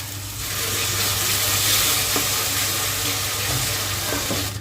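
Sour yogurt poured into a pan of softened tomato and spices for capsicum masala, giving a steady, loud sizzling hiss with faint scraping of a spatula, no voices.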